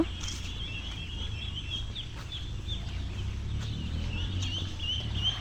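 Ducklings on a farm keep up a steady, high-pitched peeping, chirps overlapping continuously over a low background rumble with no talking.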